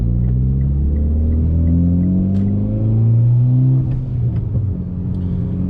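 Engine of a Mitsubishi Evo X with a WK Motorsport short shifter, heard from inside on a test drive, a loud steady rumble that climbs in pitch through the gears with a brief dip at a shift.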